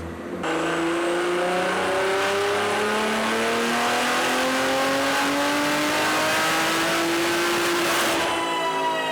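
A JB4-tuned high-horsepower car making a dyno pull at 32 psi of boost: a loud, sustained engine roar rising steadily in pitch through the gears before cutting off, with no talk.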